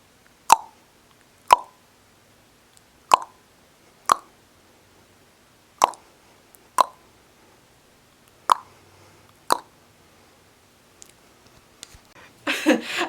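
Sharp hollow plops recorded as a drum sample for a song, about ten isolated knocks spaced roughly a second apart, close and dry over near silence, ending in a brief rustle.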